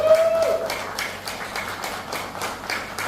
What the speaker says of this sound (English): Let's give her another big applause right here